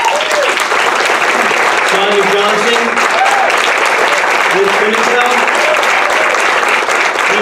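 An audience at the close of a show applauds steadily and loudly throughout, while a man reads out a list of names over the clapping.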